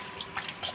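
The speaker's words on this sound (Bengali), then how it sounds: "মাথায় জল দাও" Water poured over a person's head, a brief soft splashing and trickling with faint drips, close and quiet, with no talking.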